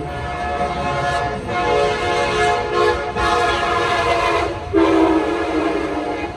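An Amtrak train passes near San Clemente and Oceanside on a coastal rail line: a loud, steady rumble of rolling cars with horn tones sounding over it, the noise swelling and shifting as the train goes by, with no talk.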